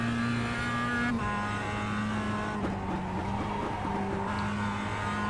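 Mazda MX-5 Cup race car in the iRacing simulator at Summit Point Raceway, its engine droning steadily at a held pitch with a shift or lift near the one-second mark, loud and continuous with no talk.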